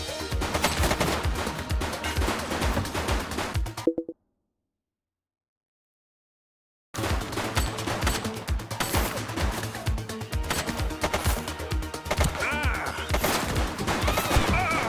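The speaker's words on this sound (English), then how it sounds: "Shots fired!" Bursts of rapid automatic gunfire mixed with single shots in The Precinct video game, loud and dense, cutting out to silence for about three seconds before the shooting resumes just as heavily.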